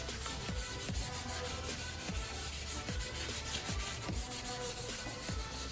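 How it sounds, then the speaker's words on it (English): A plastic headlight is sanded by hand with 400 grit sandpaper, a close, rhythmic rasping scrub of repeated strokes at an even pace. "400 grit sandpaper, second sand. This is also a light sand. You can put a little more force into this one."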